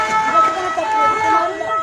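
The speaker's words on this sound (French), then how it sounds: "C'est passé l'ambulance." An ambulance siren in Mayotte wails steadily near a crowd, its pitch holding and wavering, with voices talking loudly over it throughout.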